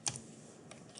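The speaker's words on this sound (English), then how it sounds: "Hit the plus on your keyboard" A single key press on a computer keyboard, the plus key struck once: a sharp, close click at the start, a fainter click near the end, and quiet between.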